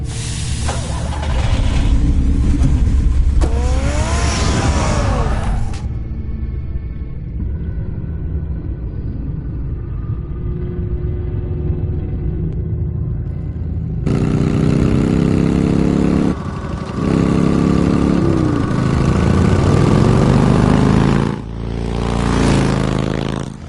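Car engine from a Batman video game, a steady mid-pitched rumble that drops away for several seconds midway and then returns loud, with a scraping, revving swell near the end.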